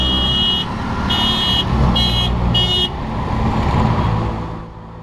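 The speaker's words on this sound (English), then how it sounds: "Whenever someone is about to overtake you, they will let you know by giving a honk." A car horn honks four times in short, evenly spaced beeps over the steady hum of nearby traffic on an Indian road, signalling an overtake.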